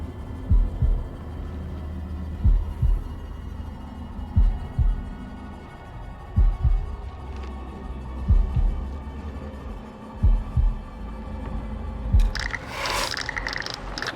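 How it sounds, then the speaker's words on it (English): Heartbeat challenge in the video game House of Ashes: muffled low thumping beats in steady pairs over a dark ambient hum, with a brief brighter burst near the end. "This is the first time the heartbeat challenge ended in only one beat instead of a pair of beats."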